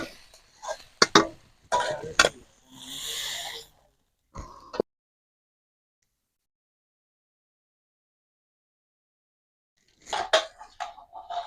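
Cooked chorchori of shrimp and Malabar spinach greens is scraped from a pan into a dish, giving a few sharp metal clinks and scrapes followed by a soft slide, then a long silence and more clatter at the end.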